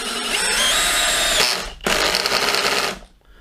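DeWalt DCD701 brushless 12V drill driver whines loudly up close while driving into wood, in two bursts split by a short pause, before stopping abruptly.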